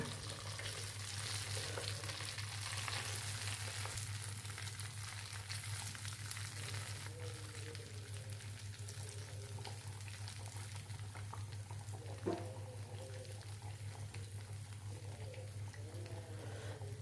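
Chicken pieces for KFC-style fried chicken bubbling in hot oil, a continuous fine crackling sizzle with one brief clink partway through, close and fairly quiet with no talk.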